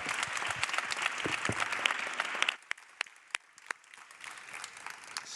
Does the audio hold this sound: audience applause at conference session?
yes